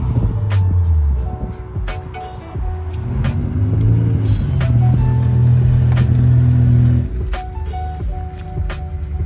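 BMW 635 CSI pulling in at a London owners club meet, engine note loud and near, climbing and dropping as it rolls up, then settling to idle among sharp clicks and knocks.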